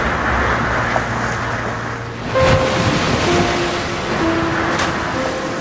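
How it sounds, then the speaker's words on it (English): Powerful ocean surf roars steadily, with wind buffeting the microphone and a louder surge of breaking water partway through; no one speaks. "Woo, that ocean is powerful."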